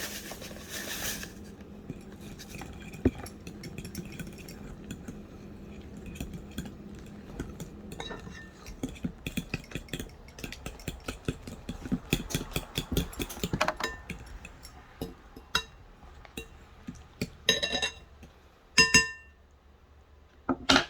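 Cornbread batter is mixed in a bowl, with irregular scraping and clinking of a utensil against the bowl, sparse at first and then quicker, closer and busier, with a few louder knocks near the end.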